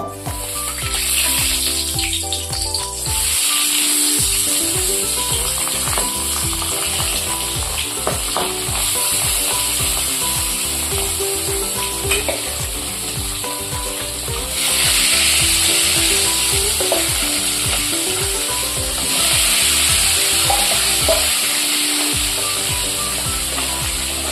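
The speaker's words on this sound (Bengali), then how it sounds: "এবার আমি প্রথমে গরম সর্ষের তেলে আমি ট্যাংরা মাছগুলো" Tangra fish fry in hot mustard oil with a constant, close crackling sizzle and occasional stirring, while steady background music plays underneath.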